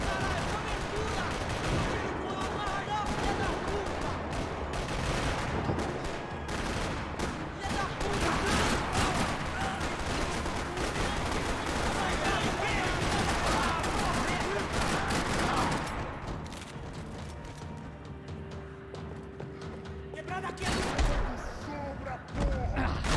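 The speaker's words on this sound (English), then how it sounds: "Another parking lot rattling with gunfire." Rapid bursts of gunfire rattle continuously in a parking lot in Max Payne 3, dense and loud, then thin out into scattered shots near the end.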